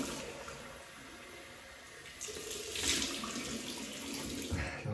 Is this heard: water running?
yes